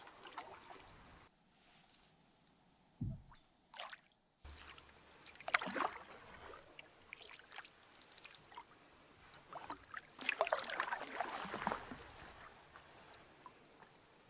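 A canoe paddled on a calm wilderness lake at sunset gives close, intermittent paddle splashes and dripping, trickling water, with quiet gaps between strokes and a cluster of busier splashing toward the end.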